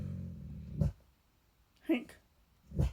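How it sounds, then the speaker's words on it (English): A dog barks indoors at someone outside, three short separate barks spaced about a second apart, fairly close and moderately loud against a quiet room. "the dog's barking at someone outside."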